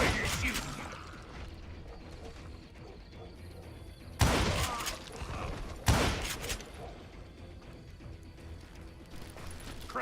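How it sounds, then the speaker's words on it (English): Gunfire in the Western shooter Call of Juarez: Gunslinger: two loud, sharp blasts a couple of seconds apart, each trailing off, over a steady bed of game ambience with faint clatter. "Watch where you're shooting!"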